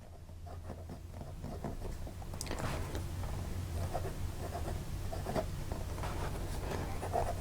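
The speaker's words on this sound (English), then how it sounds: "Live writing. So we're going to just use this nib normally." A bent-nib fountain pen laying down broad, wet lines on paper gives soft, steady scratching strokes that come in short, repeated bursts. The sound is close and quiet, with no talking.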